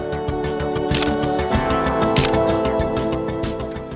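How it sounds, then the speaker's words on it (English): A film SLR camera fires its shutter repeatedly, sharp close mechanical slaps and clicks in an irregular rhythm with a couple of louder, crisper releases. "The fat slap of a shutter feels like nothing else"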